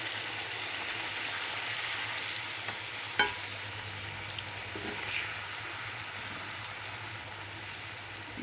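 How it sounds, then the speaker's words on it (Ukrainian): Veal kidneys sizzle steadily in a hot frying pan, a constant crackling fry with a low hum beneath and an occasional clink of a utensil. "І нехай вони смажаться."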